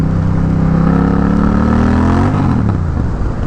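A Honda Rebel 1100 (CMX 1100) motorcycle with no muffler revs up close and loud, its engine note climbing steadily before dropping back to a rough, throaty idle. There is no talking.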